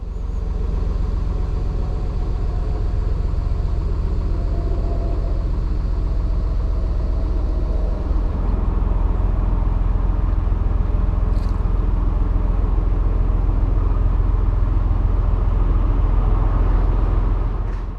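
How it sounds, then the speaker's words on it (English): A narrowboat diesel engine ticks over in reverse on a canal, a steady low rumbling idle that stays loud and unchanging throughout, with no voices. "My engine is now on tick over in reverse"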